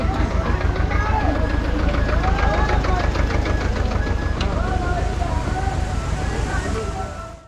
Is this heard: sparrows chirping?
no